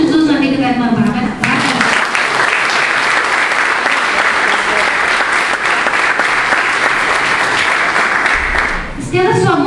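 A church congregation breaks into loud, sustained applause for Sister Bárbara, a dense wash of clapping that runs nearly ten seconds, with a voice speaking briefly before it starts and again as it fades.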